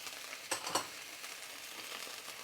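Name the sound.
whole spices (cardamom, bay leaf, cloves) frying in pan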